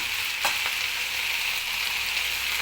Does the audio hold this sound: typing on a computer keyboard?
no